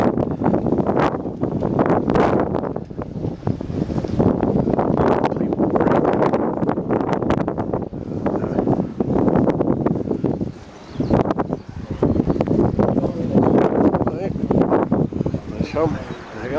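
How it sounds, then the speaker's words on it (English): Strong wind gusting across an exposed hilltop wind farm, a constant loud rushing buffeting that roars against the microphone with only a brief lull, heard under talk. "as you can tell, it's a windy day here up at the wind farm."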